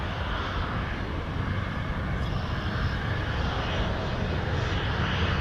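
Engines of a WestJet Boeing 737-700 bound for Montreal at Toronto Pearson give a constant, dense roar with a thin high whine layered on top, even in loudness from start to finish.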